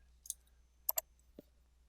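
A computer mouse clicks while drawing in CAD software: four faint, sharp clicks, one single, then a quick double, then a lower final click, in a quiet room.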